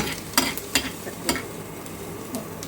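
Onions frying in a pan for borscht, a soft sizzle broken by a few sharp scraping stirs near the microphone, with no talking.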